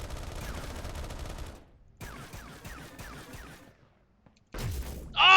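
Rapid bursts of submachine-gun fire in a video game, several volleys separated by short pauses, loud and close, ending in a sharp louder blast.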